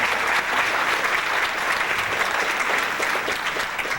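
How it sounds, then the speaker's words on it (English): Audience at a health presentation giving a round of applause, a steady, dense burst of clapping that holds at an even loudness for about four seconds with no talk over it. "Dr. Sebi, round of applause."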